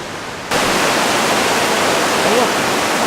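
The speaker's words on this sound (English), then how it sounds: "Oh look, there's the waterfall." A waterfall near a footbridge roars as a steady, dense wash of rushing water, loud and continuous once it comes into range.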